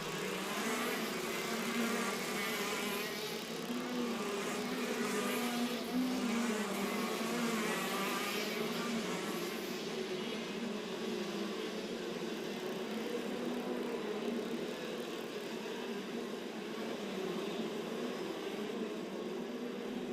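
KZ2 racing karts on their rolling lap make a loud, steady, buzzing engine drone that holds for the whole stretch, like a swarm of high-revving two-stroke motors heard together.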